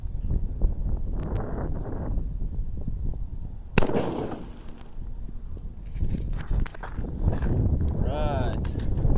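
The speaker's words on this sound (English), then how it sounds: "Our next shot will be at 1800 feet a second." A rifle fires a single 118 gr MKZ bullet at 1800 feet per second, making one sharp, loud crack midway through. Talking and outdoor background noise surround the shot.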